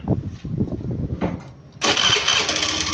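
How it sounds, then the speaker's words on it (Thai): A car engine cranks with a rapid chugging starter rhythm, a brief pause, then catches and settles into a steady running hum, close by. "ติดเครื่อง"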